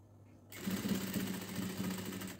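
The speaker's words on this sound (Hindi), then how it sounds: "स्टिचिंग तेज तेज नहीं करनी, स्लो स्लो करना है कि नीचे से ये कपड़े के ऊपर सिलाई इक्वल आए" A sewing machine starts after half a second of quiet, then runs steadily at a slow, even pace, stitching fabric for a salwar hem design. The whirring hum stays close and constant to the end.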